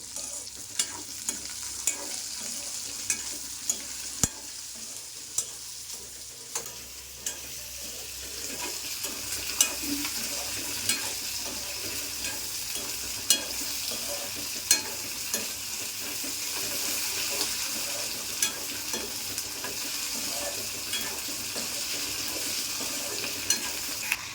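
Raw peanuts fry in a pan with a steady, close hiss, while regular stirring produces light clicks and scrapes every second or so throughout.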